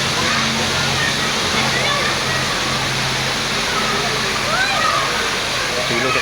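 Heavy rain pours down in a steady, dense roar that stays loud and unbroken throughout, with a continuous wash of water noise and no pauses.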